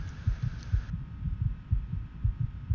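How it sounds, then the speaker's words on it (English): Heartbeat in the video game Fallout 3, a steady, soft, low double thump repeating about once per half second with a faint hum underneath, no voices over it. "Heartbeat."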